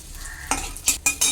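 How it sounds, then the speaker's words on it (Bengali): Garlic, cumin, bay leaf and dried chilli fry in hot oil with a steady sizzle, broken by several sharp spatula scrapes and stirs against the pan near the end; no voices. "মশলাটা হালকা ভাজা হয়ে গেছে"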